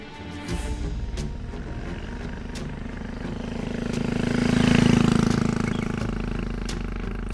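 A motorcycle ridden fast in an audio drama scene, its engine droning steadily throughout and swelling louder as it passes close around the middle before settling back to a constant rumble, with no voices.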